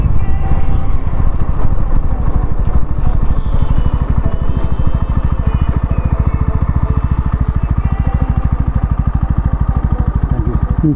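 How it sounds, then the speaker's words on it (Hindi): A Bajaj Pulsar NS motorcycle engine runs loud and close after engine work, a steady rapid thumping putter that holds throughout, as if riding or revving nearby. "मैं तो बस अपना बाइक ट्रायल कर रहा था"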